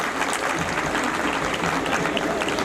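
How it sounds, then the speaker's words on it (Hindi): Audience at a school annual function gives loud applause for the teachers, a thick burst of many hands clapping with some crowd noise, steady throughout a few seconds. "तो एक बार जोरदार तालियां मेरे टीचर्स के लिए"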